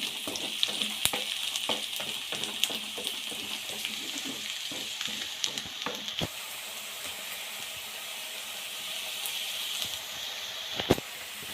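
Onions and smashed garlic fry in a pan for dal, a steady close sizzle and hiss with occasional stirring clicks and scrapes throughout.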